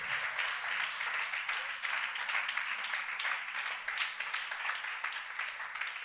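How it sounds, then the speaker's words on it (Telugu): A church congregation at a holy communion service claps loudly and steadily in unison, a dense, continuous wash of hand claps from a large crowd lasting several seconds. "గట్టిగా చప్పట్లు కొడదాం."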